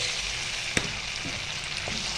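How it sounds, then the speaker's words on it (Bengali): Garlic paste frying in hot oil with black cumin tempering in a wok, a steady soft sizzle with one sharp crackle near the start, close and without talk. "এরপর আমি কড়াইতে তেল দিয়ে ফোড়ন দিয়ে দিয়েছি কালো জিরে। এর মধ্যে আমি দিয়ে দিলাম রসুনের পেস্ট"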